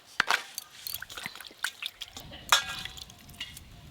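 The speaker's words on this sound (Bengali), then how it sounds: "এবার নামিয়ে নেব, জল দিয়ে ভালো করে ধুয়ে নেব।" Charred roasted tomatoes with shrivelled skins are rinsed with water in a home kitchen, giving faint, close, scattered drips and short trickles with small splashes.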